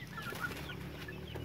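Chickens on a Philippine farm cluck softly, a few brief quiet calls at a distance over a low steady background hum.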